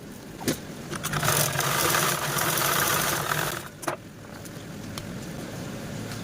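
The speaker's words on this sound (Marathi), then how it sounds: "आता दुसऱ्या साईडचा पण सेम त्याच पद्धतीने स्टिच करून घेऊया" A sewing machine stitches a fabric belt for a blouse, running in one steady burst of a few seconds between sharp clicks, then falling to quiet handling noise.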